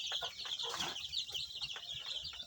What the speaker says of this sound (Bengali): দেখতে পাচ্ছেন এই যে মুরগি 4 দিনকার বাচ্চা মুরগিগুলো খাচ্ছে